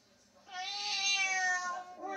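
A single drawn-out cat meow, loud and close, rising then trailing off over about two seconds.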